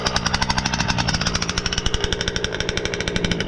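The gas engine of a Losi 5B RC car runs loud and close in a fast, steady, rapid-fire buzz with no pauses.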